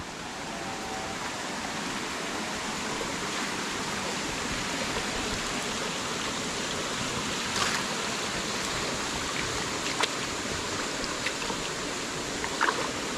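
Small stream flowing in a rural area, a continuous soft rushing of water heard steadily throughout, with a few faint clicks and knocks in the background.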